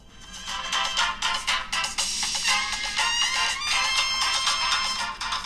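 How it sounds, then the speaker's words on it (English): A Vivo Y22 plays a bright, chirpy ringtone tune through its single speaker, steady and fairly loud for several seconds with a tinny, trilling character and no talking. "And here is the Vivo with a single speaker."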